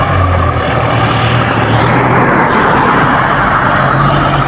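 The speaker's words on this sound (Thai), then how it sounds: "รถไถนามา" A farm tractor working a rice field where a large herd of cattle grazes, giving a loud, steady diesel engine drone with a low throbbing hum close by, no voices.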